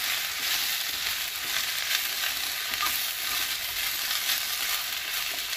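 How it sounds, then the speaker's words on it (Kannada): Okra (ladies finger) fries in a pan while being stirred, giving a continuous close-up hiss and crackle of sizzling oil with faint scraping, steady throughout. "ನಾನು ಸ್ವಲ್ಪ ಕೆಂಪಿಗೆ ಹುರ್ಕೋಬೇಕು."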